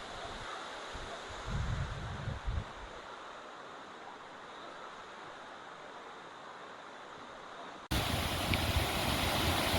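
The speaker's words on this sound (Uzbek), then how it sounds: "Mana sharshara oldiga qarab kelyapmiz" Tovoqsoy gorge waterfall roars as a steady broad rush of falling water, with wind buffeting the microphone in bursts early on, then growing abruptly louder and closer near the end.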